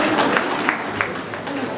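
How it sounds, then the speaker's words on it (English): Audience applause at a school annual award ceremony, a steady wash of clapping from parents and students filling the room at moderate volume, with a few sharper claps standing out. "Please be generous with your applause, parents, students."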